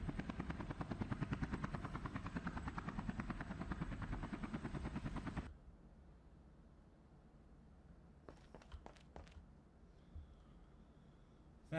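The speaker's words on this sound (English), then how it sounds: "Why does this sound like a helicopter?" A loud, rhythmic video game helicopter rotor thumps steadily for about five seconds, then cuts off abruptly, leaving a quiet background with a few faint clicks.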